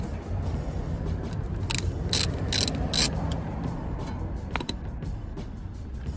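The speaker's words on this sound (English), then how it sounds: "we'll just finish taking this nut out" Ratchet wrench taking a nut off the rear shock absorber of an Alfa Romeo Giulietta, with several loud close ratcheting bursts early on, then slower turning and a faint steady background.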